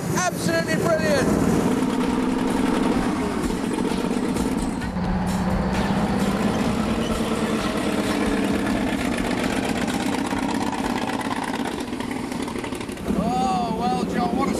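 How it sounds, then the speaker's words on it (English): Loud, throaty Crusader tank engine running close by, a dense rumbling drone that stays constant throughout, with people talking over it. "That engine is so loud, more like a dragster than a tank."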